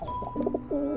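A racing pigeon coos close by in a few soft, throaty bursts that end in one longer drawn-out coo, all with no talking over it.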